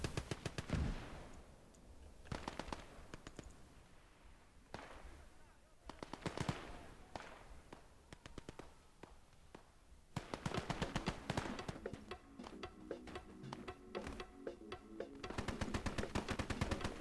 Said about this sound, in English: Oh, mortars. I heard them.